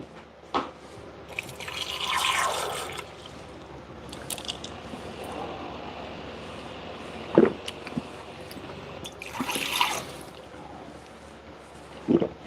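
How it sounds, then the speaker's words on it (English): Water is poured into a cup holding creatine powder, two short close splashing bursts of filling separated by quieter handling clicks and taps. "I put water on that creatine."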